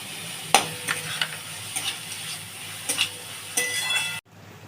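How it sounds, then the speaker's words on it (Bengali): Chopped onion and garlic sizzle in ghee in a pan for dal makhani, a continuous hiss punctuated by a handful of metallic scrapes and clinks from stirring, then a sudden stop near the end. "দেখুন বন্ধুরা, পেঁয়াজটা রসুনটা ভালো ঘি দিয়ে একটু ভাজা হয়ে গেছে।"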